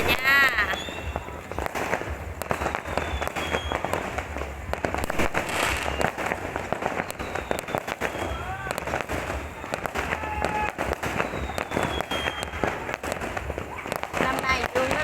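Fireworks burst and crackle continuously at a New Year's Eve celebration in a Vietnamese commune, dense popping and booms filling the air with a steady loud roar and whistling rockets rising through it.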